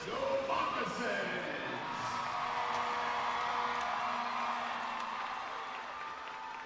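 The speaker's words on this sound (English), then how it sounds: "the crowd starting to come to life here in this building" An indoor arena crowd at a minor-league game between the Monroe Moccasins and Baton Rouge Zydeco cheers and claps in a steady, sustained roar, with a commentator talking over it.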